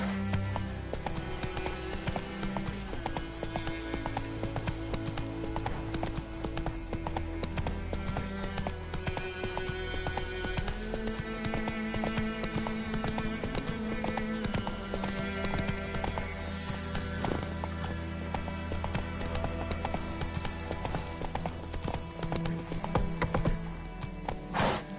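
Horse hooves clip-clop in a fast, steady galloping rhythm in the video game The Witcher 3, heard clearly over layered orchestral game music for the whole stretch.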